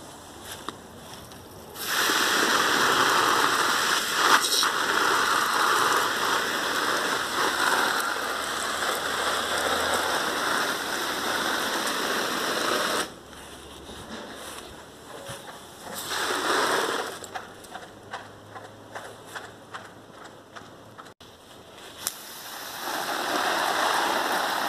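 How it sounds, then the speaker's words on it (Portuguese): Water splashes steadily onto a bag of manure being moistened for curing, a loud broadband pour running for long stretches with short pauses and a few intermittent bursts. "Agora eu vou jogar água."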